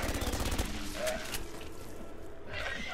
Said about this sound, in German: jetzt muss ich aber doch meine scheiß SMG wieder auspacken